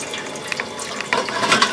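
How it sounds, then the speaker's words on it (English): Water runs from a tap into a home canner being filled for processing jars of vegetable salsa, a steady close splashing stream that grows louder partway through. "continue to fill your canner up to that line"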